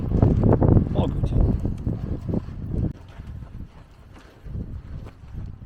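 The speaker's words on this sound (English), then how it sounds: "It's so blooming windy." Strong wind blustering outdoors during an outdoor dinner in Ireland, with loud gusty buffeting on the microphone in the first half, easing to a lower rumble, under a person talking.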